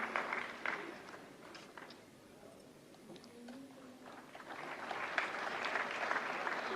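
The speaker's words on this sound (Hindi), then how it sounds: "जोरदार तालियों से स्वागत करें" Audience applause at a national film awards ceremony in a hall at Vigyan Bhavan, New Delhi, a dense patter of clapping that dips in the middle and swells again toward the end, heard at moderate distance.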